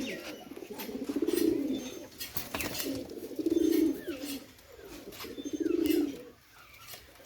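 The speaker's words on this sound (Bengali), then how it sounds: "কবুতরটা আমরা ছেড়ে দেখি।" Pakistani Teddy pigeons, a pair offered for sale, give three rounded, throaty coos in steady phrases close by, with faint chirps and a quick flutter of wings in between.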